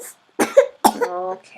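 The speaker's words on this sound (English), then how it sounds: "that's a bad cough" A sharp cough rings out close by, followed by a second harsher cough with a throaty tail, with a short spoken word between.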